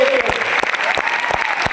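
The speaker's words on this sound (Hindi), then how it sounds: "मैं चाहूंगा मेरी मम्मी के लिए एक जोरदार ताली होनी चाहिए।" An audience claps at a motivational business gathering, a short burst of dense applause with sharp individual claps close by and a voice briefly over it.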